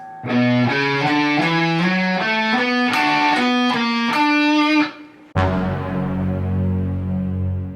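Distorted electric guitar plays a solo: a quick run of bright, sustained single notes stepping up and down, then a louder ringing chord that slowly decays, played alone.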